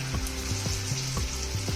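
Ridge gourd and paneer koftas frying in hot oil, a steady close sizzle and crackle with a regular pulsing bubbling pattern, loud and continuous with no voices.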